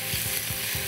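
Prawns sautéing with ginger and garlic give a brief, continuous hissing sizzle at even loudness.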